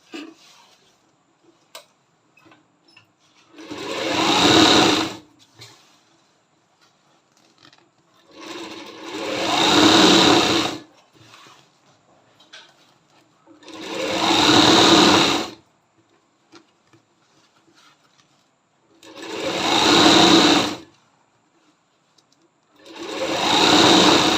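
A sewing machine motor runs in repeated bursts while stitching cloth from leftover fabric scraps, five loud whirring runs of a few seconds each separated by quiet pauses with faint clicks.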